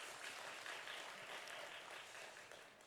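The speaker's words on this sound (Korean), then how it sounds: "우리 박수로 한번 격려하겠습니다." A church congregation at a special New Year dawn prayer service applauds to encourage the children present, a steady, fairly soft wash of clapping that holds for about three seconds and tapers slightly at the end, with no voices over it.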